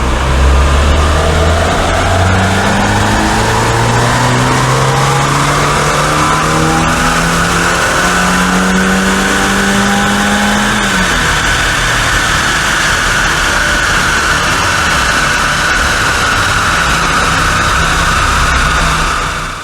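A Citroen BX 14RE revs hard on a rolling-road dyno, its engine note climbing in long repeated sweeps before dropping back and holding a loud steady drone with tyre and roller noise, close and continuous throughout.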